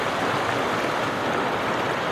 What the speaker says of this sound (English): let you enjoy the creek sounds